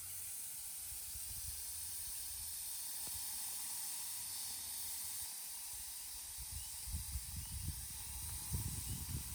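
Thin-cut carne asada steaks sizzle on an outdoor grill, cooking low and slow, giving a steady, close hiss that runs the whole time, with some low handling bumps toward the end.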